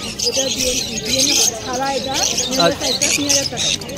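Pet birds, among them a pineapple conure, chirp and squawk continuously at a busy outdoor bird market, their calls mixed with loud crowd chatter and people talking close by.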